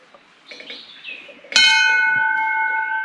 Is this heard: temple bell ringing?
yes